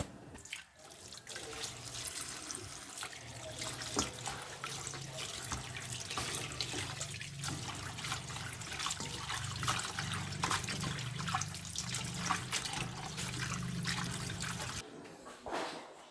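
Water running steadily from a tap into a sink while kalamansi is washed, a close, continuous splashing stream with small shifts as the fruit is handled, stopping near the end.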